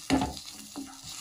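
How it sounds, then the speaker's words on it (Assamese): Chillies fry in hot oil over a full flame for a pitika meal, a short burst of sizzling and a stirring scrape near the start, then a quieter hiss with faint spoon movement. "এতিয়া এইখিনি ফুল ফ্লেমত লৈ পেলাই ভাজিম"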